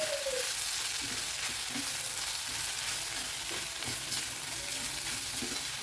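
Broad beans with grated coconut sauté in a pan, giving a steady close sizzle and crackle with soft scraping stirs throughout, and no voices.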